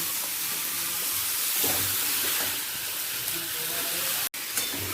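Diced ash gourd frying with spices in a pan for a Bengali sukto, giving a steady close sizzle and hiss with soft stirring scrapes, uninterrupted except for a brief cut near the end.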